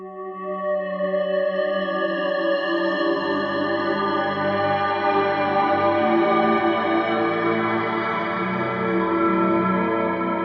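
A sustained Korg Op Six synthesizer chord with a shimmering chorus effect and spacious reverb, playing steadily and loudly throughout with no voices.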